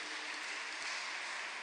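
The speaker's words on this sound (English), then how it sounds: "Give the Lord a mighty clap of praise and thanksgiving." Congregation clapping together in praise during a Tuesday afternoon Catholic Mass, a dense, steady wash of applause filling the church for a short burst.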